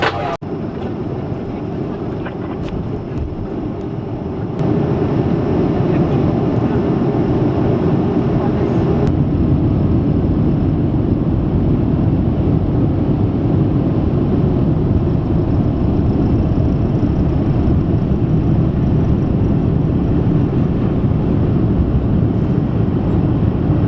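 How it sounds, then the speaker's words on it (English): A Lufthansa Boeing 737-300 airliner takes off from Frankfurt, heard from the cabin as a dense, loud, steady roar that steps up in level after a few seconds as thrust builds and then holds. "Probably my last takeoff ever on this aircraft"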